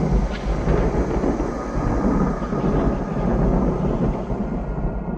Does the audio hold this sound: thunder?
yes